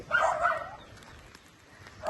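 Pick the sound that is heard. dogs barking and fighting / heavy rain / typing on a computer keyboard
dogs barking and fighting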